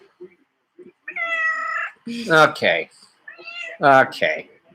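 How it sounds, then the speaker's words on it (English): A house cat meows repeatedly near a live football broadcast, with several long, loud, drawn-out meows and yowls coming in separate bursts close by, and a brief spoken word among them. "Enough with the meowing"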